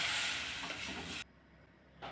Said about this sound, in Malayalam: ഇതിലേക്ക് വെള്ളം ഒഴിച്ചു കൊടുക്കുകയാണ് ഞാൻ.